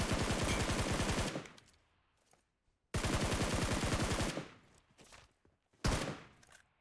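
Video game gunfire in a mobile shooter, two long, loud, close automatic bursts with rapid even shots, each trailing into a quick fade, then a shorter third burst.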